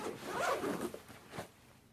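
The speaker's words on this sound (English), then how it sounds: "Close this up, zip it across" A camera gear bag holding wedding photography equipment is zipped closed, a raspy zip drawn across in a couple of close strokes, then quiet.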